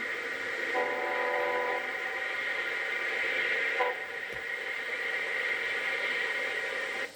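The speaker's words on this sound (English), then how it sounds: "At Greensburg, Pennsylvania, train number 32 comes into the station." Pennsylvania Railroad passenger train No. 32, the combined St. Louis and Pennsylvania Limited, pulling into the station at Greensburg, Pennsylvania: a steady, close rolling rumble, with a brief tonal squeal or horn-like note near the start and another short one midway.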